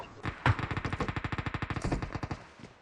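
Rapid automatic gunfire in a tactical shooter match, a fast steady burst of about twenty evenly spaced shots lasting nearly two seconds, close and loud, with no talking over it.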